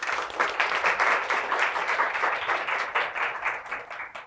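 An audience at an environmental justice lecture claps to welcome the speaker, sustained and fairly close, rising quickly and then tapering slightly toward the end.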